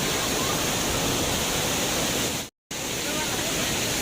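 A waterfall roars as a loud, dense, continuous rush of water, broken by a brief gap of silence partway through.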